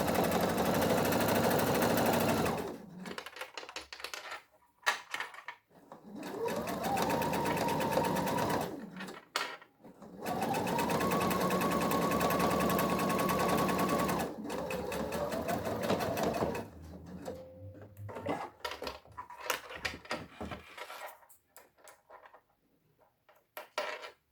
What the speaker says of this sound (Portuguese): Já passei uma costura de um lado, agora eu posso passar do outro lado.